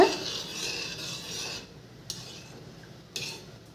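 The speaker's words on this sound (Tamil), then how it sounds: "இழு இழுப்பு எண்ணெயும் இப்போ கொஞ்சம் நல்லா கலக்கி விட்டுக்கோங்க" Medicinal pain-relief oil made with neem oil being stirred in a pot on a stove: a steady scraping, stirring rasp up close for the first second and a half, then quieter with two brief sharp clinks of utensil on pot.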